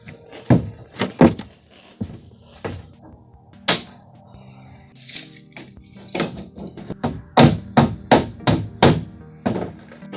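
Roofing nails being hammered into a wall stud while sheathing a tiny house: sharp, loud blows arrive in quick clusters with short pauses between, each ringing briefly, and no talk.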